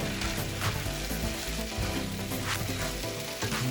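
Tomato and onion mixture frying in a pan while being stirred, a dense close sizzle with rhythmic scraping strokes running continuously.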